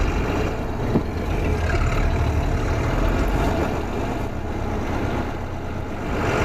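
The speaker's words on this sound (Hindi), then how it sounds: "यहाँ पर देखो अभी हमने गाड़ी स्टार्ट की, हैंड ब्रेक ऊपर उठाई" A Tata Prima BS6 2021 truck runs with a steady, dense low engine rumble throughout, close and continuous with no talk.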